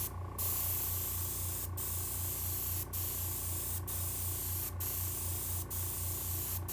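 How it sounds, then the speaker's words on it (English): An airbrush compressor sprays in a steady, loud hiss, broken every second or so by short sharp bursts of air, with a low mechanical hum running underneath. "And then I got a compressor."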